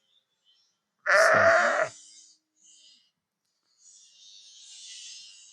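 A goat on a farm gives one loud, close, quavering bleat, followed by fainter rustles and a brief spoken word in an otherwise quiet setting.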